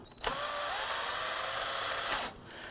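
A power drill or driver whines steadily for about two seconds while snugging the two battery hold-down nuts on a 2008-2011 Ford Focus, starting and stopping abruptly, close and fairly quiet with no talking.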